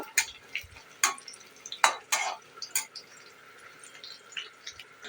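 Chopped green chillies and garlic frying in a pan, a faint, quiet sizzle under scattered sharp scrapes and clinks of a spoon stirring against the metal.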